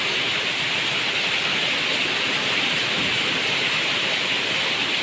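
Heavy rain with strong wind pours down in a steady, dense hiss that stays evenly loud from start to finish, with no voices or breaks.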